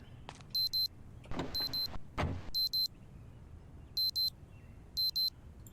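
Digital watch alarm going off inside a car in the Project Zomboid video game, sounding in short repeated high beep bursts, with thumps and rustling between them and no talking.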